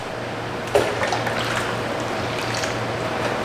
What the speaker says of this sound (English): something told me to pour it in this other bowl, which is what I'm going to do